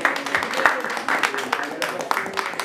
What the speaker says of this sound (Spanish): Un aplauso bien fuerte, bien lindo para ella.